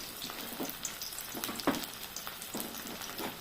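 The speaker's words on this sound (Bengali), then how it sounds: "6 পিস আছে, 3 পিস করে ভাজছি।" Three pieces of paneer fry in a pan, giving a soft continuous sizzle with occasional crackles and pops up close, with no talking.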